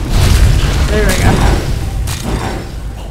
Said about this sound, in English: Oh, this is the ground that, like, lights on fire.